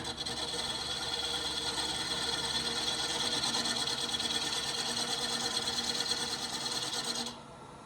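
Lathe spinning stock at about 600 RPM while making a canteen flask, a steady, loud whirring and rasping hum that holds without pause for about seven seconds, then drops away abruptly near the end.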